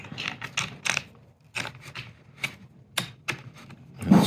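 Small wrench snugging a bolt on a small wind turbine blade, quick close clicking ratchet-like taps in short irregular bursts with quiet gaps between them.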